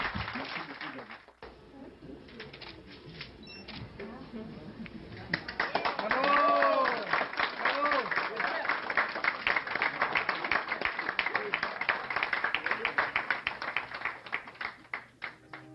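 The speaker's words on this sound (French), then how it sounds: "Une autre ronde d'applaudissements pour Daniel." Audience applause on a regional French-language morning radio program, where talk gives way midway to a loud, dense round of clapping that continues steadily to the end.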